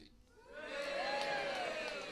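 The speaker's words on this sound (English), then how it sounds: "I was about to say you don't have to clap" Comedy club audience at a stand-up show breaking into applause and cheering, a dense wash of clapping and whoops that swells after a quiet start and holds loud and steady.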